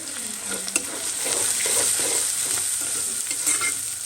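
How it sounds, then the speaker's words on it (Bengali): Salted onions frying in a pan, giving a loud, continuous sizzle with occasional light scrapes of stirring. "পেঁয়াজটা কিন্তু অনেকটা ভাজা ভাজা রয়েছে"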